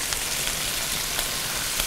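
Shrimp hiss and sizzle steadily in a hot pan, a dense, even crackle of frying that stays constant and fairly loud throughout, with no voices over it.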